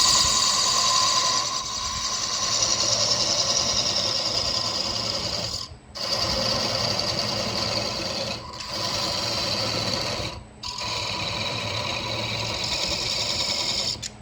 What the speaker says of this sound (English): Narrow parting Tool so I can get in there and make the bottom more concave.